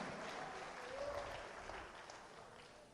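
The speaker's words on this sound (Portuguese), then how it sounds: "Você pode aplaudir o nome do Senhor?" Church congregation applauding during a Portuguese-language sermon, a faint, steady patter of many hands with a voice briefly heard over it.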